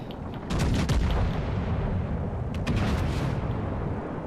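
Heavy shellfire from the Japanese battleship IJN Hyūga in World of Warships Legends, booming salvos that roll into a long rumble, with sharper cracks near the start and again later.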